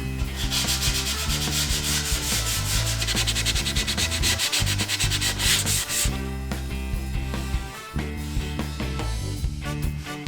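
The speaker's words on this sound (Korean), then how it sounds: "양면을 샌딩 후 잘린 단면도 샌딩하겠습니다." Sandpaper rubbing back and forth over the cut edges of wooden monitor stand pieces, loud rhythmic scratchy strokes with a brief pause, background music underneath.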